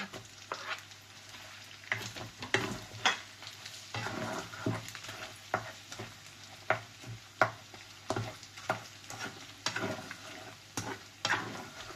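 Garlic sautés in a pan with pork for a Filipino ginisa, a continuous close sizzle broken by frequent rhythmic scraping and clacking strokes of a stirring utensil.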